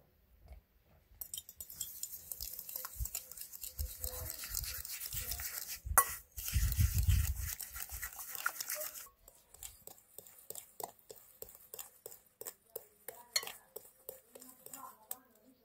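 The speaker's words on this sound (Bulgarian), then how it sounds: "Първо разбъркваме с вилица яйцата, захарта" Fork clinking and scraping in a bowl while stirring eggs, sugar and honey together for honey cookies, with rapid close-up taps and a brief busier whisking stretch, then lighter clinks.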